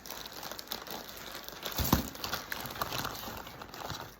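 A large plastic garbage bag crinkles and rustles up close in an uneven, continuous stream of crackly handling sounds, fairly quiet, with no voices.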